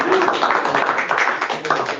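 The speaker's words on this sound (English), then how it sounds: "we give her a round of applause" Applause for an award at a school board meeting, with scattered hand claps mixed with voices talking in the room.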